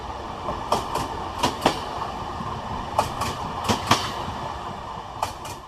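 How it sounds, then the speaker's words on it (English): Rhythmic clickety-clack of train wheels passing over jointed, unwelded rails, paired clicks repeating steadily over a continuous rolling rumble inside a carriage. "when the metal wheels ran over the joins and the rail lines"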